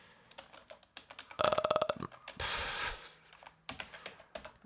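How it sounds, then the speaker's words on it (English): Keys clatter in quick bursts on a computer keyboard while a MAC address command is entered, with short pauses between runs of typing and one longer, louder burst of noise in the middle. "So let's type in MAC"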